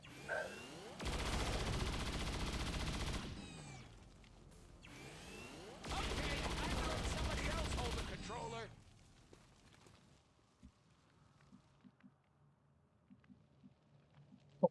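Rapid gunfire in the video game XCOM 2 Long War of the Chosen comes as two loud, dense bursts, each a couple of seconds long, followed by quieter scattered game sounds.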